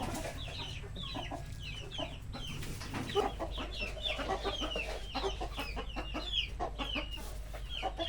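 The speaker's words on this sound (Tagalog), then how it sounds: "nagpapakain na po kami ng mga manok" Chickens cluck and chirp steadily in a busy chorus, with several birds calling close by over a low background hum.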